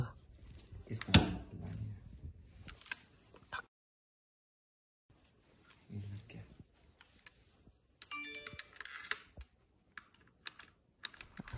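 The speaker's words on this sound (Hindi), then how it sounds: "अब आपको गन बंद करने का भी तरीका बता" AK-47 rifle parts click and knock as the gun is put back together. Light metallic snaps and taps come in irregular clusters, with a brief silent pause and a sharper run of clicks toward the end.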